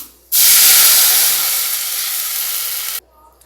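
Chana dal batter hits hot tempering oil with fennel seeds in a pan and sizzles: a loud, close, broad hiss that bursts in suddenly, holds steady for nearly three seconds, then cuts off.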